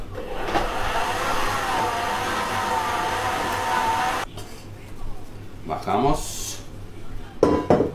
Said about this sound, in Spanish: mezclamos me dejo de hablar porque hace mucho ruido